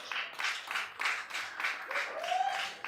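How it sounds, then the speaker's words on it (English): Sparse, light clapping from a small bar crowd at a stand-up comedy show, a handful of pats in uneven bursts, fairly close and modest in volume. "that's cheap clapping right there"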